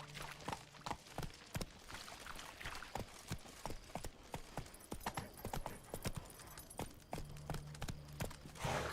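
Horse hooves clip-clop steadily at a walking pace in Witcher 3, close and distinct against a soft game ambience, with a brief low tonal cue near the start and end.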